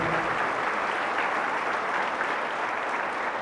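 Steady, sustained applause from a church congregation, a dense wash of clapping that holds at an even level throughout with no voices standing out.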